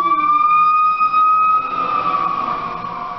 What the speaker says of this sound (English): Ambulance is coming by as soon as I'm trying to tell the story.